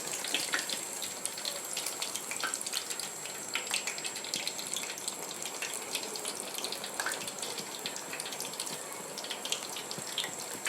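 Crispy brinjal fritters fry in oil in a kadai over a medium flame, giving a steady, soft, hissing crackle throughout with scattered tiny pops, fairly quiet and alone.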